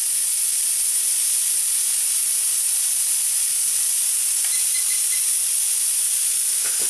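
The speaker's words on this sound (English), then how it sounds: "now that the pressure cooker has come up to steam" A pressure cooker full of bean soup hisses steam in one continuous, loud, high-pitched rush, steady and unbroken throughout with no voices.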